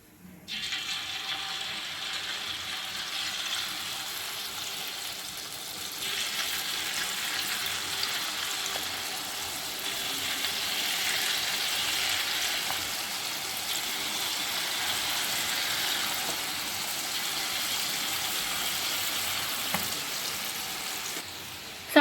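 Jalebi frying in hot oil gives a steady, continuous sizzle and hiss that holds fairly loud and close for about twenty seconds, with no talking.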